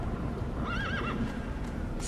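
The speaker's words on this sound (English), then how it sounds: "Getting kicked by this donkey guarding the fairy gold." A donkey in The Witcher 3 video game lets out a wavering, whinny-like bray over a steady background bed, lasting about half a second near the middle, with no talk.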